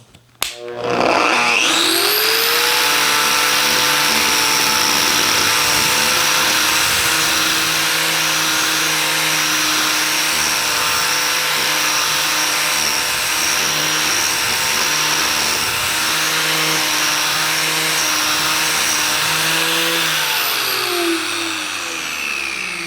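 An Arbortech power carving tool spins up to maximum RPM and holds a loud, steady high-pitched whirring whine for about twenty seconds before winding down, with no talk.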